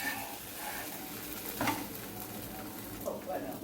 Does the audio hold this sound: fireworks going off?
no